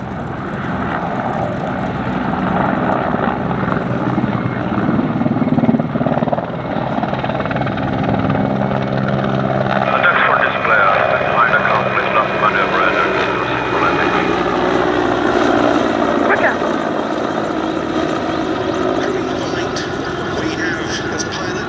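A Czech Air Force Mi-17 Hip helicopter flies past at an airshow, its steady rotor and turbine roar loud and continuous throughout, while a commentator talks over it on the public address.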